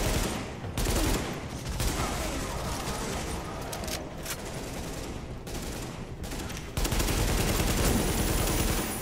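Sustained AK rifle gunfire in the video game Tom Clancy's The Division rattles in loud, fast automatic bursts, broken by a couple of short gaps before the shooting resumes.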